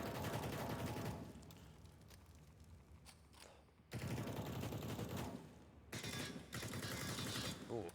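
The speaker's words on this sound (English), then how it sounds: "Oh, shots just coming everywhere." Gunfire during a professional Counter-Strike match on the map Nuke. Dense volleys of rapid shots come in loud bursts, broken by quieter gaps, and sound close-up.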